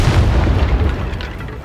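A Confringo spell explodes in Hogwarts Legacy: a loud, close, deep boom with a rumbling low-end burst that fades slowly over under two seconds.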